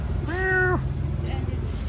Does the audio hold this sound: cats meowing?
yes